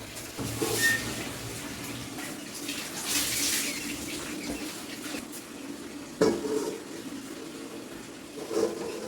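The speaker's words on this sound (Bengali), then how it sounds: "এই যে কড়াই ফ্রি হিট হচ্ছে দেখো এবার এই কড়াইয়ের মধ্যে আমি বসিয়ে দেবো" A cake tin for a homemade chocolate cake is set into a preheating kadai on the stove. A steady hiss runs underneath, broken by a sharp metallic clunk and a lighter knock soon after.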